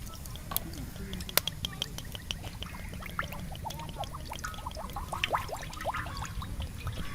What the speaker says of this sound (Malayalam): ഒരു ചട്ടിയിലേക്ക് എണ്ണ ഒഴിക്കാം.